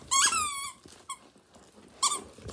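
A squeaky plush dog toy squeaks three times, a sharp high squeal first, then a short chirp and another squeak, close and alone with no voices.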